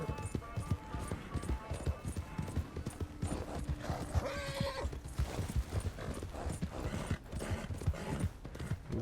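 Horse hooves clip-clopping at a steady walking rhythm through the town of Valentine in the video game Red Dead Redemption 2, with a brief whinny midway, a close clatter running beneath a person talking.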